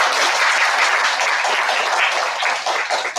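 An audience applauds in encouragement at a gathering, a dense, sustained round of clapping heard close and loud with no talk.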